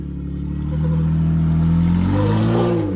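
A 4x4 engine revving steadily as the vehicle crawls up a rough bush track in the Watagans, a loud, sustained mid-range growl that rises in pitch, with some clatter from the drivetrain.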